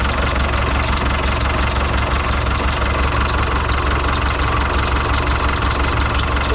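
A boat's inboard motor runs steadily during an engine test, a loud, close, continuous low rumble with rattling vibration and no pauses or talk.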